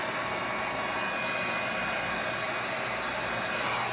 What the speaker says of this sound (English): I'll come back in with my heat gun